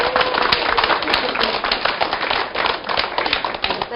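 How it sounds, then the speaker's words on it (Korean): A church program audience gives strong applause welcoming a pastor onto a broadcast stage, with brisk, steady clapping that carries on evenly without a break throughout. "힘찬 박수로 맞이해 주세요."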